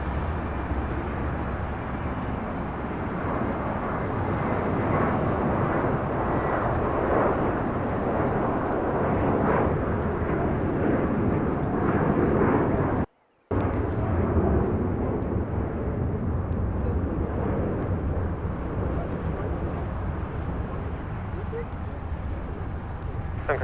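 A Sun Country airliner taking off at LAX, a continuous loud roaring rumble of jet engines that swells and holds, with people talking over it and a brief dropout partway through.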